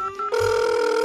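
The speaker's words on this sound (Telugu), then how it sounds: "ఎవరికి బుల్లబ్బాయి గారు ఫోన్ చేస్తున్నారు?" A telephone rings once during a phone call, a short bright electronic ring tone that sounds close and clear and cuts off after about a second.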